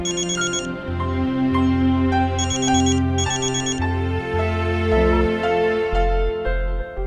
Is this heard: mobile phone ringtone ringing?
yes